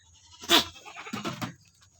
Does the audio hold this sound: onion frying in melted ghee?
no